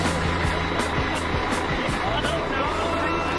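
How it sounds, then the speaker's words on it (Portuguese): A heavy cargo truck's engine runs steadily with a loud, continuous rumble after starting, and people talk over it. "Ela já ligou o caminhão."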